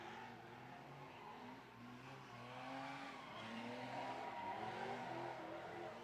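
LS-swapped BMW drift cars, including a flat black one, revving hard and squealing tires at a drift pit, a steady roar with rising and falling engine pitch heard from a distance.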